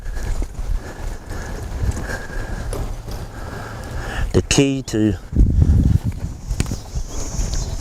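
A cutting horse moving over ground, soft hoof thuds and clip-clop beats under someone talking, with a louder burst of movement midway.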